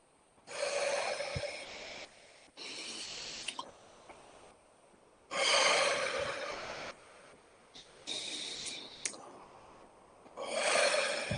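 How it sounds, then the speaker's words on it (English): Strong, forceful breaths during an active breathing exercise come in a series of loud, airy pulses, each a second or two long, with short quiet gaps between them and no talking. "So now more of an exercise for these last 5, active breathing."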